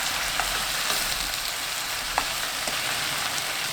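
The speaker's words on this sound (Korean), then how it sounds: "마 넣고 센 불로 4분 익힙니다. 계속 볶으면 마가 익으면서 부서져 버리기 때문에 타지 않을 정도로만 가끔 섞어주세요. 양념 넣고 1분 30초 볶습니다." Korean yam (ma) stir-frying with seasoning in a pan over high heat, giving a steady, close, dense sizzle with a few faint stirring clicks and no talking.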